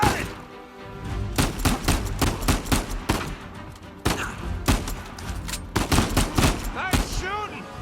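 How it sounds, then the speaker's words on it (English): Gunfire in the action game Uncharted 4: A Thief's End, dense bursts of rapid shots and automatic fire in a loud firefight, with game voices briefly heard in the mix. "Nice shooting!"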